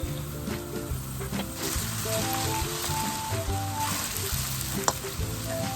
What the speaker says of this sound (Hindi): थर्टी सेकेंड के लिए इसको फ्राई किया है अदरक लहसुन के पेस्ट को।